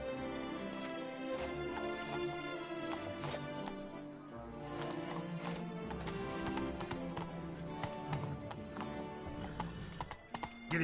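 Galloping hooves of Roach, Geralt's horse in The Witcher 3 game, drum steadily and close for the whole stretch, with a whinny breaking through over game music and ambience.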